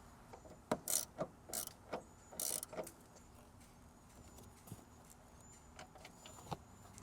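A ratchet wrench clicks in short bursts while loosening the strut top nuts on a Mercedes ML350, several close ratcheting runs followed by quieter scattered clicks and taps.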